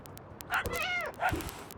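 Two short, clear meows from a cat character in an indie game demo, about half a second apart, fairly close and alone with no talk over them.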